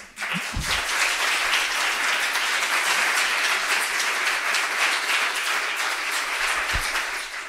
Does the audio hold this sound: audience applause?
yes